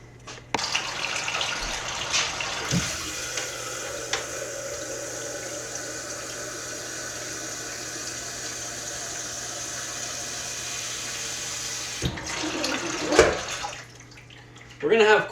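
Tap water runs into a pot in a home kitchen as a steady rushing stream for most of the stretch, then cuts off, followed by a few clattering knocks.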